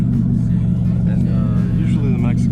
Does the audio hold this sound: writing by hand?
no